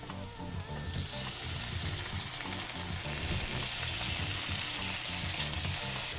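Small tofu cubes hit a hot stir fry pan, a loud, dense sizzle that flares up and holds steady, with faint bumps of the food shifting, close by and free of speech.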